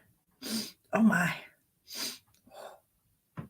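A single sneeze close to the mic, sharp and loud, set among a few short spoken remarks and breaths from the same person.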